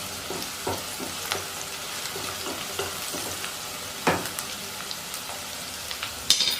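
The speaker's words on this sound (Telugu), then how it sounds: "ఉప్పు యాడ్ చేయడం వల్ల ఆనియన్స్ త్వరగా ఫ్రై అయిపోతాయి." Onions with salt frying in a pan for a mixed vegetable dish, a steady close sizzle with scattered crackles and stirring scrapes throughout, a few sharper pops near the end.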